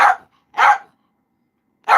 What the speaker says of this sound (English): he's getting ready to bark